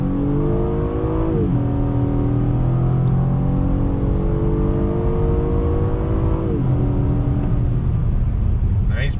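A 2020 Acura TLX A-Spec PMC Edition in Sport Plus mode accelerates hard on throttle. Its engine note climbs loudly and steadily, dropping briefly at two gear shifts before rising again.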